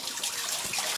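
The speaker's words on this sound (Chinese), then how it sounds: "水声不断，浴室里马桶水箱不断涌出水来" Water from a leaking toilet cistern pours steadily in a bathroom at night, a continuous close hiss of running water that cuts off abruptly at the end.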